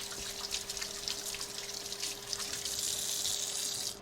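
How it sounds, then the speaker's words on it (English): Running water from a kitchen tap as cinnamon is washed off hands, a steady close hiss and splash of water falling into a sink, with no talking. "this is a chance for me to wash the cinnamon off my hands."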